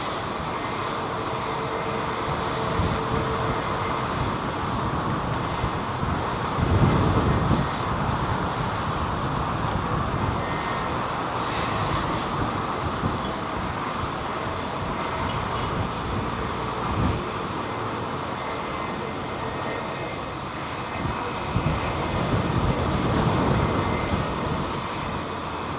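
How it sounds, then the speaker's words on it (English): Two airliners, a Qatar Airways Boeing 777 and an Air Canada jet, take off close together at London Heathrow, a loud continuous engine roar that swells and holds steadily throughout, with no talking. "it's two jets, yeah, and they're relatively close together. Qatar Triple and Air Canada."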